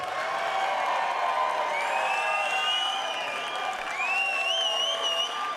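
A crowd at an Island Fights MMA event applauds and cheers after a three-round bout: steady, dense clapping and sustained whoops and whistles from a large audience, continuous and moderately distant, with no single voice standing out.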